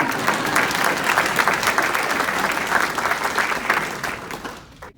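An audience applauds steadily for about five seconds at a testimonial event, a dense wash of many hands clapping that fades out at the end.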